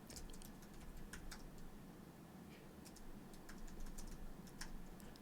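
Typing on a computer keyboard: faint, irregular clusters of light key clicks under a steady background hiss, with no voices.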